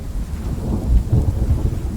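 Thunderstorm with rain in the video game Outlaws of the Old West: low rumbling thunder rolls over a hiss of steady rainfall, loud and close throughout.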